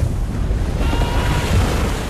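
Ocean waves roll and break in a broad rushing wash, loud and close, the surge swelling midway and carrying on without pause as a film scene plays.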